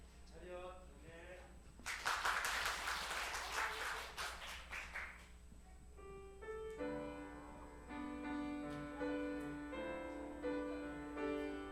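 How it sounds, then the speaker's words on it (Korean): Applause from a church congregation at a Christmas service, a broad burst of clapping from about two seconds in that gives way to music and voices. "큰 박수로"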